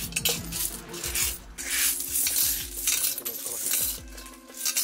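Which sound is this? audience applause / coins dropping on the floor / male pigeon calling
coins dropping on the floor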